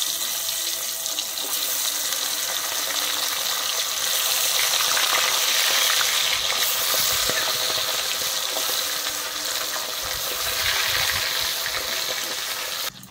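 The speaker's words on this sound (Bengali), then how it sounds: "আমি বাদ বাকি মাছগুলো কিন্তু একইভাবেই ভেজে নেব।" Parshe fish fry in hot oil with a continuous, dense hiss that holds even and fairly loud throughout, with no speech.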